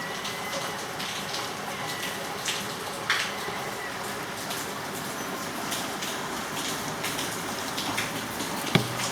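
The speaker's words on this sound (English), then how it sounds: "I love the sound of rain." Steady rain falling outdoors, a constant wash of patter with a few louder drops and a brief knock near the end, heard alone.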